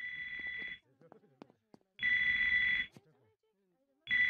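Repeated shrill electronic ringing of a mobile phone lodged inside a man's back in a cartoon: three close ring bursts with short bits of other sounds in the gaps.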